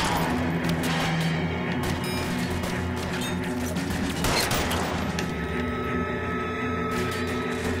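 Gunfire in the video game LA Noire: a dense, continuous volley of shots and crashing impacts fills the whole stretch at steady loudness, with one sharper burst near the middle and no talking.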